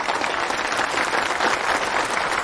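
Audience applause at a staged introduction in a period drama set in 1920s Shanghai, continuous lively clapping from a crowd, even and sustained throughout.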